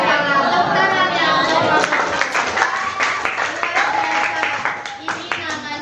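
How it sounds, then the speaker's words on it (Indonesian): Classroom group claps after a student group's presentation, a brief patter of hands mixed with lively chatter and voices talking over it throughout. "Tepuk tangan ya."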